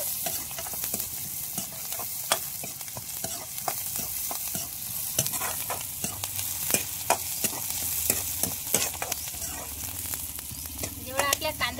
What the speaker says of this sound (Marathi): आता त्यातनी कांदा घेतो टाकून. कांदा पण मस्त परतून घेऊ, लाल होईपर्यंत